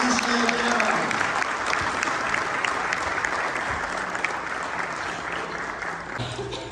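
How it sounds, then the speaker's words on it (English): A crowd applauds steadily at a Kosovo Independence Day event at New York City Hall, with dense clapping throughout and a voice briefly audible beneath it. "Let's give a round of applause"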